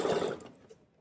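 A sewing machine runs a zigzag stitch over a coiled fabric rope, a short close burst of rapid mechanical whirring that quickly fades out.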